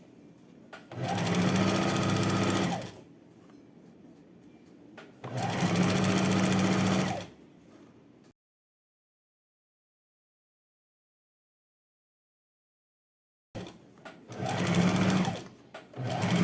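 A domestic sewing machine runs in bursts while stitching the seams of shorts with elastic and pockets: two steady, loud whirring runs of about two seconds each, a long silent pause, then a third run starting.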